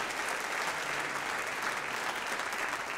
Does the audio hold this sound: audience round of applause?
yes